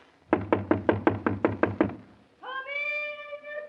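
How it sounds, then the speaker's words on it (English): Eight quick, evenly spaced knocks rap on a door, crisp and close, followed after a short pause by a drawn-out tonal call much like a meow. "So I guess we'd better knock and see if anybody answers."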